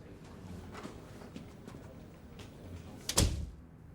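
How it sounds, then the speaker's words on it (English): A door bumps shut near the end with a single solid thud, after a stretch of quiet room tone and faint movement. "Close the door, Julian."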